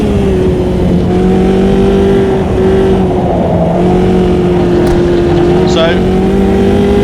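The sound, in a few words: race car engine in Automobilista 2 racing video game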